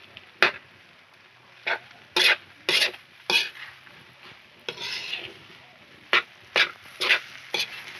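Cassava ukoy batter being stirred in a pan, a series of separate scraping strokes in irregular rhythm with quiet gaps between, close and fairly loud.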